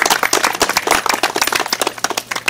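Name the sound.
audience applause welcoming a speaker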